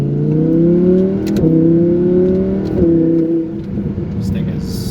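Audi R8 V10 Plus engine revving hard under launch control acceleration, a loud, sustained rising engine note with brief dips at gear shifts, close and continuous throughout.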